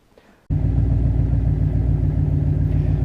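A turbocharged 1UZ V8 in a Lexus LS400 fires up after a brief quiet moment and settles into a steady, loud, deep idle with an even rumbling pulse, heard close and alone.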